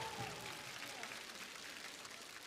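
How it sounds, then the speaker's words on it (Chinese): Studio audience applause on a Chinese televised singing show, a steady broadband patter holding evenly through the clip with a faint trailing tone underneath, no voices over it. "我们掌声也要谢谢刘铮老师"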